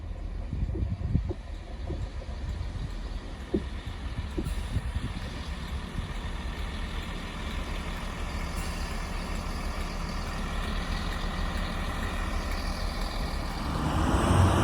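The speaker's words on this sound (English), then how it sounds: "Departing out now is the 1107 Great Western Railway service from Cardiff Central to Portsmouth Harbour." A Great Western Railway Class 165 diesel unit departs Filton Abbey Wood station, its low engine rumble and rolling noise steady and fairly near, swelling louder toward the end with a faint high whine above.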